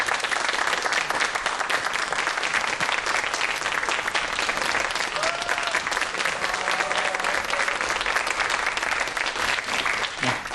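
A large studio audience applauds a physics professor coming onto the stage at a lecture. The clapping is dense and steady, loud and continuous for about ten seconds, with no speech over it.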